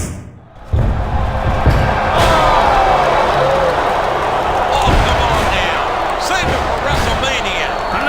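A wrestling arena crowd in WWE SmackDown vs. Raw 2006 roars and cheers after a slam thuds down, a loud sustained din of cheering with commentary voices over it.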